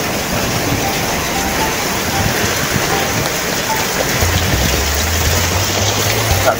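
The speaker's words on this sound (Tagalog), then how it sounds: "Grabe, lakas ng ulan." Heavy rain falls in a dense, continuous hiss, loud and close, with a faint low hum entering near the end.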